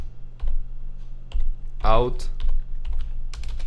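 Computer keyboard keys tapped while typing code for a Java console program, a few short clicks and bursts close by, with someone speaking over them.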